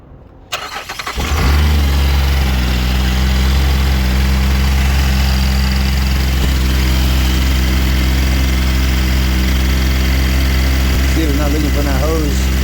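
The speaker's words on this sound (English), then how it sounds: "All right, we're gonna start it up now." A car engine cranks and catches after a brief quiet moment during a mobile mechanic's hose repair, then settles into a loud, steady idle that runs uninterrupted for over ten seconds, close to the listener.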